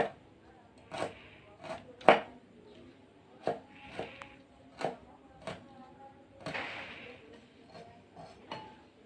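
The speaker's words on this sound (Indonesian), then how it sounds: "Dalam pemotongan bawang merah usahakan tidak terlalu tebal dan tidak terlalu tipis ya." A knife chops shallots on a cutting board, giving about a dozen sharp, close knocks in an uneven rhythm with short pauses between cuts.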